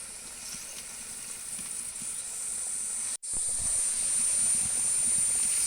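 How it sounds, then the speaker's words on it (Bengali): Fried pointed gourd pieces simmering in a spiced yogurt curry give a steady, moderate sizzle and bubbling hiss that runs throughout, broken by one brief silent gap midway, with no talking. "এবার ভাজা পটলগুলো তার মধ্যে দিয়ে দেবো"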